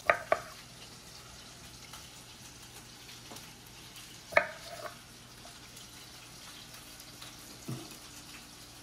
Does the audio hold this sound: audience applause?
no